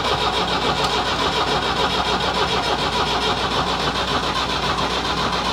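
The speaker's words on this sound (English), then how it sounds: "Getting a bit tired this engine." A worn, smoking forklift engine cranks and catches, then runs steadily at a loud, rough, chugging idle throughout.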